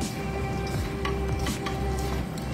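Chicken biryani being stirred in a pot, a spoon scraping and knocking against the metal over a constant sizzle, close and busy with no talking.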